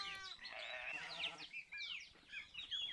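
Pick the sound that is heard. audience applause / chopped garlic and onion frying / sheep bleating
sheep bleating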